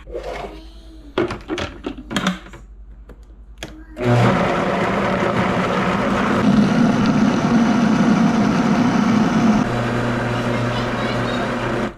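A Vitamix blender grinds garlic with a loud, steady roar that starts abruptly after a few seconds of clunks and handling knocks, then runs on at a near-constant pitch.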